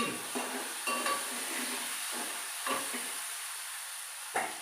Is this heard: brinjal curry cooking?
yes